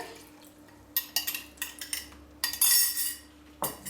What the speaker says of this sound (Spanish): Voy a mezclar para escaldar ligeramente la harina con el aceite caliente